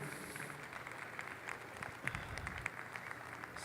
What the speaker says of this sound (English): He needs a big round of applause.